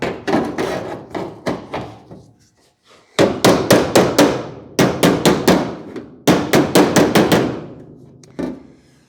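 Repeated hammer blows strike the metal door of a 1951 Ford in quick bursts of four to six hits, separated by short pauses, loud and close with a ringing clang.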